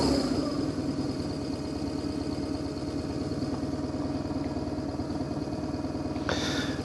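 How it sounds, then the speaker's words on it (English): A BMW R1100GS motorcycle's boxer engine idles nearby with a steady, lumpy throb and mechanical clatter throughout, and a brief brighter burst near the end. "But I don't switch off the engine, otherwise I need to push start it again. Yeah, listen to this engine."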